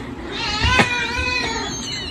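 A cat stuck in a floor lets out a single drawn-out, wavering meow that peaks in the middle of a brief moment, fairly close, with faint room noise behind and no talk.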